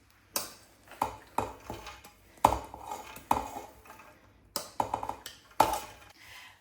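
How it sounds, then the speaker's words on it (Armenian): Dry lentils go into a cooking pot with a spoon, making a series of sharp, close clinks and taps against the metal, spaced unevenly, with no talking. "հիմա ավելացնում եմ ոսպը"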